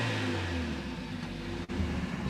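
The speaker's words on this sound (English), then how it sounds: "So if you give it a bit of a rev now." Car engine set to Sport Plus driving mode, revving with a steady low mid-range rumble that holds at moderate loudness and dips briefly near the end, with no voices.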